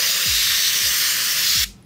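Spray cleaner blasts into a trailer wheel bearing hub in one close, loud, continuous hiss that lasts about a second and a half before cutting off abruptly, with a few faint low knocks underneath.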